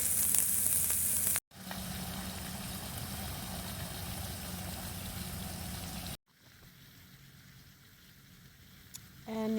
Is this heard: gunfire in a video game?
no